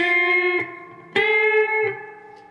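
A distorted electric guitar plays a short segment of the verse riff at full speed, a few sustained picked notes ringing loudly and close, each attack sharp before fading slightly, with no voices.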